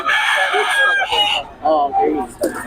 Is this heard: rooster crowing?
yes